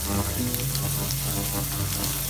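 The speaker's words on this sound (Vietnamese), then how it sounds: "Bắt chảo lên bếp, cho dầu vào đun nóng rồi cho cá vào chảo rán sơ qua." Sun-dried round scad fish fry briefly in hot oil in a pan, giving a loud, continuous crackling sizzle that fills the whole stretch without pause.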